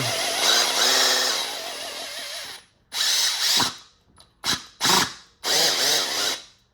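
A battery-powered fluid transfer tool whirs in several bursts, a longer motor run followed by shorter on-off pulses, close and fairly loud with no talking.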